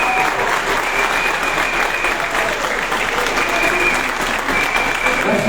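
A crowd at a Paris political meeting on Mali claps steadily and loudly for Yamadou, a continuous wash of applause with some scattered voices underneath.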